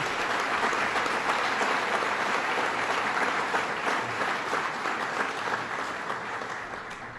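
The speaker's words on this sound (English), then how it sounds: "we all owe them a round of applause for the good work that they've done" Awards event audience applauding the Regional Economic Development Council, a full, sustained round of clapping that tapers slightly toward the end.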